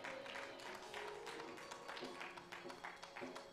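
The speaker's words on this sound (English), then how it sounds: "Give a big round of applause." Applause from an Easter Sunday church congregation with clapping and scattered taps, some voices in the room carrying underneath as the clapping continues.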